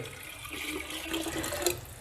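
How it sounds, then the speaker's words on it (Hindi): About a litre of drinking water is poured into an old clay pot, a continuous splashing, gurgling pour close by that runs steadily throughout with no talking. "तो पुराने बर्तन में आपको लगभग 1 लीटर पानी पीने का डाल देना है।"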